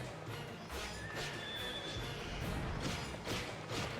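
Horse enemies in the Drakengard video game neigh and whinny several times over faint clip-clopping hooves and busy combat noise, all fairly quiet in the mix.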